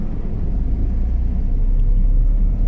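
Steady low rumble of heavy road traffic near Los Baños, Laguna, heard from inside a moving vehicle, a continuous dense engine and tyre drone with no speech.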